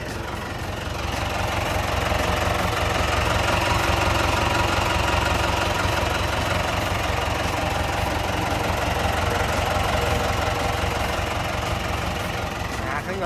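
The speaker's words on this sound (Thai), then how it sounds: "อ่าเดี๋ยวเปิดเครื่องยนต์ให้ดูนะครับ" The four-cylinder diesel engine of a Komatsu 510 wheel loader idles steadily and loudly close by, a continuous low rumble with a rough knocking texture throughout.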